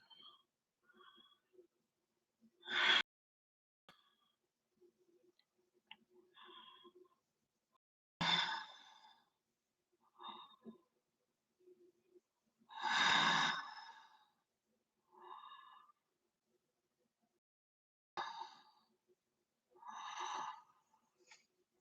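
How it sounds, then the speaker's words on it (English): Slow, deliberate breathing during yoga practice, soft nasal inhales and longer audible exhales or sighs repeating every few seconds, close and quiet with silence between breaths. "And breathe in."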